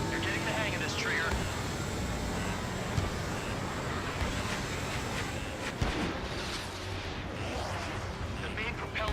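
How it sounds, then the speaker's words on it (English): The main propeller of the Arsenal in Ace Combat 7 churns as a dense, continuous mechanical roar, mixed with distant gunfire-like thuds and jet noise throughout. "The main propeller is moving again."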